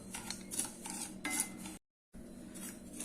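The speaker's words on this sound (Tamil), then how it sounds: "இப்போ இதை வந்து நம்ம லைட்டாக சூடுற அளவுக்கு வறுத்துக்கலாம்" Broken wheat rava dry-roasting in a pan, with a utensil scraping and clinking against the metal in short repeated strokes, close and fairly quiet, broken by a brief silent gap.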